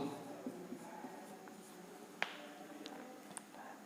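Faint scratching and tapping of a marker or chalk writing on a board during a physics lecture on the Biot-Savart law, quiet irregular strokes with small taps, no talking.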